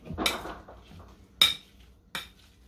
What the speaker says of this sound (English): I'm going to mash all of this together. I'm going to use my masher.